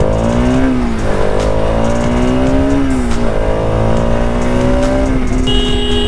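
A Bajaj Pulsar RS200 BS6 motorcycle rides along a road with a loud, close engine drone, pitch rising and falling through several gear changes and throttle shifts, steady and unbroken without any talking.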